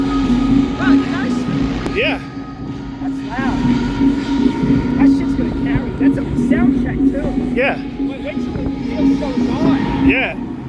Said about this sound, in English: Guy doing wheelies.